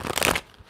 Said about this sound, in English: I just gotta get one more little shuffle because I'll shuffle the tarot by itself later.